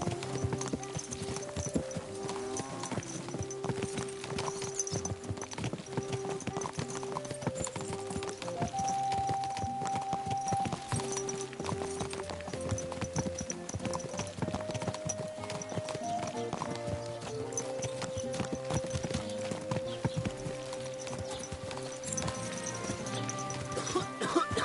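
Horse hooves clip-clopping on a road in the Kingdom Come Deliverance II video game, a steady rhythmic trot heard throughout under game music and ambience.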